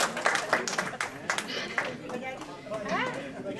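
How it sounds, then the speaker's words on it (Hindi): An audience at an event claps briefly in a few scattered bursts, while people talk and chatter over and after the clapping. "जरा बजाएं ताली।"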